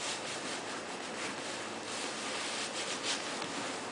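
An AcoustiHOOD insulation panel is pressed and smoothed down onto a car hood, giving a soft, continuous rubbing and brushing, close and fairly quiet, with no talk.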